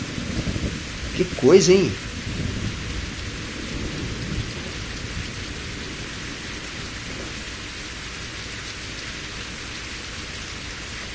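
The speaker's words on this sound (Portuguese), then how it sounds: "O som da chuva." Rain hisses steadily in the truck game On The Road, with a loud burst of thunder early on that fades into a continuous even downpour, and someone talks briefly near the start.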